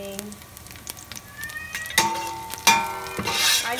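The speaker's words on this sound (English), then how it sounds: "She is meowing." A cat meows repeatedly in a home kitchen while garlic fries for chicken sotanghon, several short tonal cries, some rising, heard moderately close over light sizzling and clatter, with someone speaking nearby.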